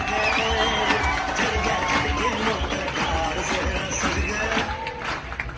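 A live audience in an indoor talk hall claps and cheers in a dense, steady wash of many hands and voices, with shouting and some chatter mixed in throughout.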